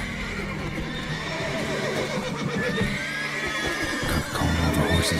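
Horses neigh and whinny in The Witcher 3: Wild Hunt, several loud calls over a busy background with clip-clopping hooves and stamping, with no talk.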